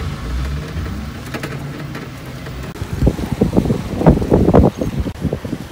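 Strong wind gusting at the seaside after a typhoon, a buffeting roar that rises into loud rumbling bursts against the microphone in the second half.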